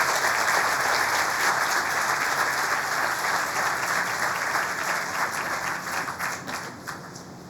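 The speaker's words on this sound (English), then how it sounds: "Let's give them a round of applause as we welcome them to the stage." Crowd applause at a 25-year celebration ceremony as guests are welcomed to the stage, a full, even roar of clapping that holds steady and then gradually thins and fades toward the end.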